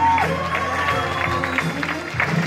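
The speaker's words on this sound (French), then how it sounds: "Je voudrais que vous l'encouragez, que vous l'applaudissiez très très fort." An audience claps and cheers for a volunteer at a hypnosis show, a dense ongoing patter of applause with scattered voices rising through it.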